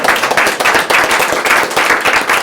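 A small group at a Guilford selectboard meeting claps together in close, fairly loud, rhythmic bursts that hold steady for a couple of seconds.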